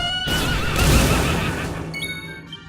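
A dragon horse in the Dragon Quest XI video game lets out a loud, close whinnying neigh, rising and shaking before trailing off, followed by faint bright game chimes.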